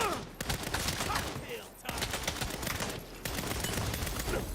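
Rapid gunfire from a Saints Row shootout rattles in dense, overlapping bursts, loud and continuous with two brief pauses, like machine-gun fusillades with faint voices underneath.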